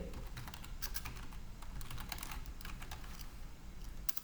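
Quick, steady keystrokes on a computer keyboard as a website URL is typed in, heard close and quiet, with no voices.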